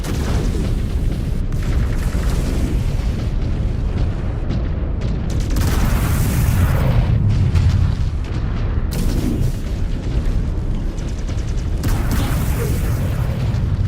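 Enemy mech blowing apart in a heavy explosion in the Mechwarrior 5: Clans video game, a dense sustained roar of booming blasts and rumbling fire with repeated bursts, loud and continuous throughout.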